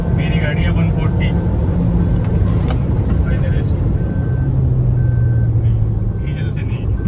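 A Hyundai Creta diesel and a Maruti Grand Vitara race side by side in a drag race, their engines producing a loud, sustained rumble and whine while someone talks over the noise.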